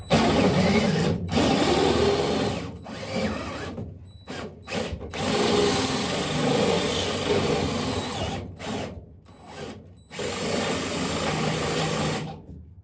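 Power cutter with a sheet metal disc cutting, a loud harsh whine in long bursts broken by several short stops and restarts.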